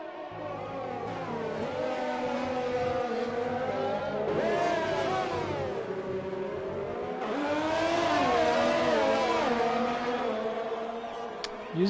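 Several race cars running nose to tail in a PS4 racing game on the Russia circuit, their engine whines rising and falling steadily and loudly with no talk.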